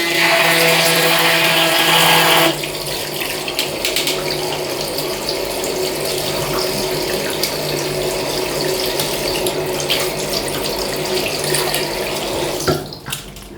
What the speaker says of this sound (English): then run warm water over the blades.